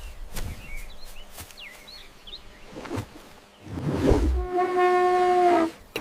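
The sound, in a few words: elephant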